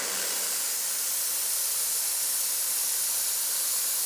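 An Aquarius Pro commercial steam cleaner releases a continuous, even hiss of steam, close and steady throughout, with no talk.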